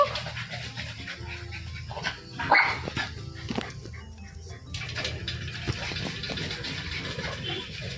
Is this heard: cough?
no